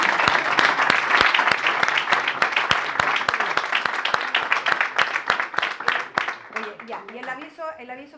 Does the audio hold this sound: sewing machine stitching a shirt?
no